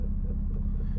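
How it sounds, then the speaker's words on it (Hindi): A 2015 Range Rover Sport Autobiography reversing in a parking area gives off a steady low engine rumble, close and even, with no other sounds standing out. "तो अभी मैं गाड़ी को रिवर्स करता हूँ।"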